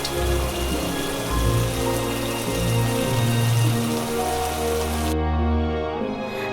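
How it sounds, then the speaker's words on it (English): Steady rain falls and patters heavily on a surface, a continuous dense hiss that cuts off sharply near the end. "God sent rain for 40 days."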